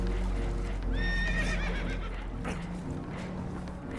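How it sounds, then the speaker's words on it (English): Horses in the Red Dead Redemption 2 video game whinny in a rising, wavering call over a low rumble and background noise, with hoof clatter around them. "Horses are spooked"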